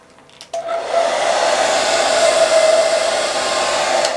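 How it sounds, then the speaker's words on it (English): A hair dryer on its cool setting clicks on and then blows a loud, steady whirring rush of air into an ostomy bag, running continuously. "I take my hair dryer here, put it on not hot, let's put it on cool. I will add air into my ostomy bag."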